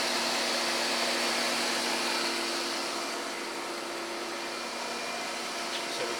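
A Sharp Supertec SPC-12 centerless grinding machine, wired for 220 volts but fed 208, runs smoothly with a steady broadband whir and faint tonal hum, constant and close throughout with no talking.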